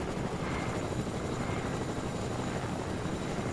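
Helicopter in the video game Fortnite, a continuous broad rotor-and-engine roar that stays steady and moderately loud throughout, with no talk over it.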